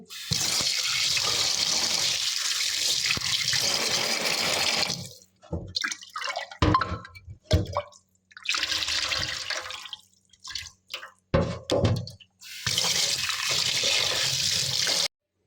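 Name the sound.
water poured while washing ghee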